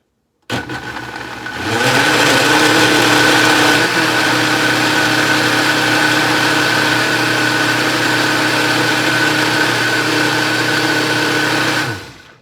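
A kitchen blender purees butternut squash soup, starting with a sharp whir that climbs to a loud, steady grinding roar and runs for about ten seconds before cutting off abruptly.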